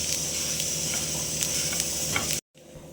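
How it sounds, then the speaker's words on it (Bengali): Sesame seeds dry-roasting in a pan for homemade til khaja, a soft continuous hiss with faint scraping ticks from stirring, cutting off abruptly near the end and leaving only a quiet room tone. "ততক্ষণ পর্যন্ত ড্রাই রোস্ট করে ভালো করে রোস্ট করে নিতে হবে।"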